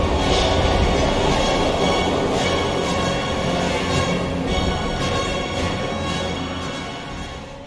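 Train in the video game Heavy Rain, a steady broadband rumble of rolling carriages and rail noise, loud and continuous throughout, gradually easing slightly toward the end, with no speech.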